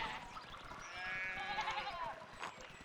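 Sheep bleating in the video game Pentiment, a faint, wavering bleat heard over soft background game ambience.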